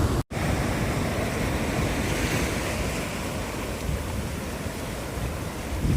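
Sea waves wash steadily onto the shore at sunset, a continuous broadband rush of surf with gusty wind buffeting the microphone, loud and close, after a brief dropout at the very start.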